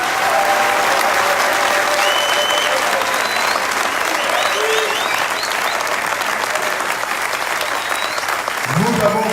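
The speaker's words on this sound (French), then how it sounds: "je demande à vous tous ici d'applaudir tous les Congolais du monde entier." Sustained applause from a large conference audience in Kisangani, dense and loud throughout, with a few faint voices and shouts rising above the clapping and a brief low thump near the end.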